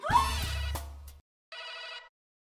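A telephone rings twice, a long electronic trill followed by a shorter one after a brief pause, fairly clear and close.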